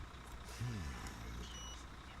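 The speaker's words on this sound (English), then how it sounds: "This must be the bus." A bus pulls up in the horror supermarket simulator game HELLMART: a steady low engine rumble with a brief falling tonal whine near the start, continuous and fairly quiet.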